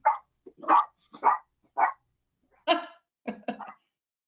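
A dog barks several times in short, uneven bursts, heard at moderate distance over an open microphone during an online public meeting, with no talk over it.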